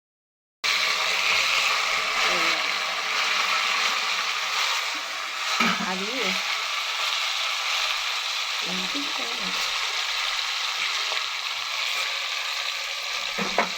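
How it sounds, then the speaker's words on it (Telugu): Green chillies sizzle in hot oil in a pan for a Telugu brinjal curry, a steady, dense crackle running throughout with a few brief stirring or voice-like sounds rising above it. "ఆయిల్ వేసి పచ్చిమిరకాయలు"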